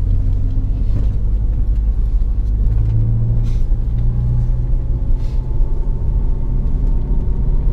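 Subaru BRZ rallycross car rolling through a parade lap, a steady, loud in-cabin engine rumble with mild revving swells and road noise throughout.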